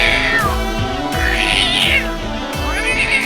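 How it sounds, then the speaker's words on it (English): A cat meows repeatedly, loud and close, with drawn-out rising and falling cries following one after another. "Still think it sounds like cats."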